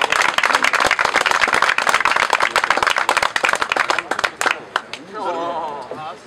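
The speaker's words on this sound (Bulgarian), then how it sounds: "Аплодисменти за него!" A crowd at a car club anniversary gathering applauds, brisk loud clapping that thins out and stops after about four seconds, followed by someone speaking.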